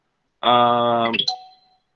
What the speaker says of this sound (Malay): tekan loceng